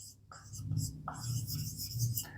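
Writing on a board during a chemistry lesson on carbon compounds, with soft repeated scratching strokes heard close up under a teacher's quiet talk.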